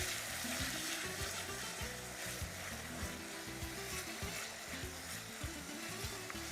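Tomatoes sautéing in a pan with garlic, a steady dense sizzle with faint scraping of stirring, close and continuous, no talk.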